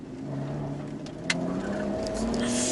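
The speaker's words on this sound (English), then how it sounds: "Wheel spin." Car engine rising in pitch as the wheels spin, a brief, moderately loud revving surge building toward the end.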